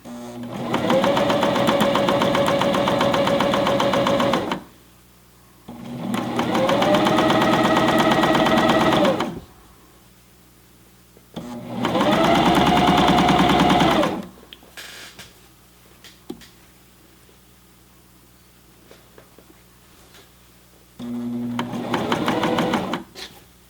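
A Janome CPX1000 coverstitch machine with a stretch needle runs in three long, steady bursts with quiet pauses between, then starts a fourth, its motor humming and stitching smoothly.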